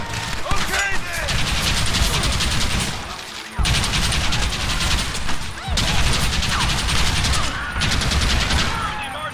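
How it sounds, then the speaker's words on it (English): Rapid Gatling gun fire in Red Dead Redemption, a loud, sustained mechanical rattle in long bursts broken by short pauses, with a low rumbling undertone beneath the shots. "Marston, use that Gatling gun!"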